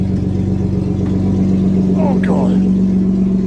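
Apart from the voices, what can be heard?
Nissan car engine without exhaust driving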